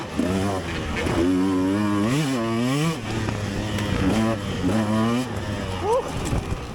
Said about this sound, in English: I hear a two-stroke behind me